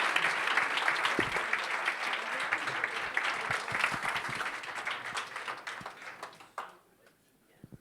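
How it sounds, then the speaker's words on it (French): Audience applause for journalist Nicolas Vidal at a talk event, a loud sustained wash of clapping that fades out near the end, leaving near silence with a few scattered claps. "Je vous demande d'applaudir Monsieur Nicolas Vidal,"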